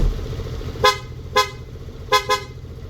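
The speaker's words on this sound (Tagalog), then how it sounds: "Loud horn," Loud stock horn on an SYM Cruisym 150 scooter-style motorcycle, four short honks close by: two spaced apart, then a quick double toot near the end, over a low idling background.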